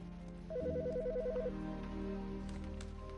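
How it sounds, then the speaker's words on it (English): A house phone rings in a video game: one warbling electronic trill of rapid alternating tones lasting about a second over a low background hum, then fading. "House phone."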